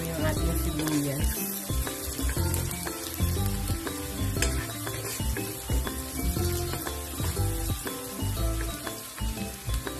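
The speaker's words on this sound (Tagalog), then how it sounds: "Muna natin maluto yung ating sibuyas." Chopped onions sauté in a pan for a Filipino ginisang bangus with black beans and bitter gourd, a steady sizzle running the full ten seconds beneath rhythmic background music.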